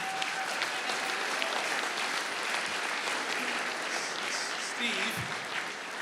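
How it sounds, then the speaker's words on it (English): A steady wash of applause fills a large hall at a Blues Hall of Fame induction ceremony, greeting associate coach Steve Ott, with faint voices mixed in beneath the clapping. "round of applause for associate coach Steve Ott"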